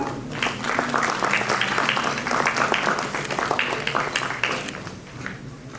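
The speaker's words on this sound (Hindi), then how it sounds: "तालियां जोरदार करनी चाहिए" Crowd applause at an appointment letter distribution ceremony held by a Chandigarh education department, sustained clapping from many hands filling the room for several seconds.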